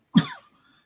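A single short, throaty cough from a man with a cold, close and dry, followed by quiet.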